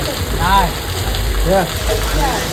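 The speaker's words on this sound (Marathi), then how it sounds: "पाणी पडत आहे जोरदार मुसळधार पाणी चालू आहे" Heavy torrential rain pours in a steady, dense roar throughout, with several voices speaking intermittently over the downpour.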